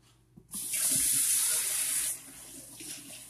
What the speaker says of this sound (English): I'm going to wash my hands really good.